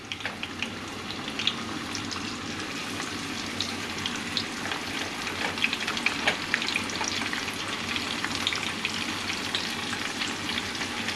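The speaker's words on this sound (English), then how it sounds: "That's giving you a nice sizzle right away." Fish pieces frying in hot oil give a steady, close crackling sizzle that lasts the whole stretch, dense and even with small popping bursts and no talking.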